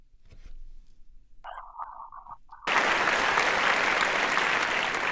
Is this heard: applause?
yes